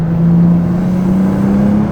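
Turbocharged inline-six of a G87 BMW M2 pulling hard through the revs from inside the cabin, a steady droning engine tone climbing slightly in pitch with a faint turbo whoosh, continuous and loud with no talking.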